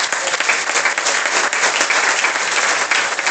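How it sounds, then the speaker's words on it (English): A church congregation claps loudly and densely at the official opening of a new Bible House building, a thick unbroken roar of hands filling the short stretch without pause. "Let's give a mighty clap for the Lord."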